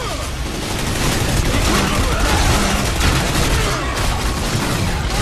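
Video game combat with loud, constant overlapping gunfire. Bursts blend into a dense roar with no breaks, close and harsh throughout.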